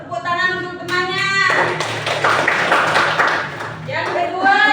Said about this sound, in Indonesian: Kasih tepuk tangan untuk temannya.